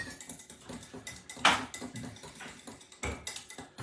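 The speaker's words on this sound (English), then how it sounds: "I'm going to stir." A whisk stirs a mixture in a bowl, giving soft, irregular clinks and scrapes up close at low volume, with no voices.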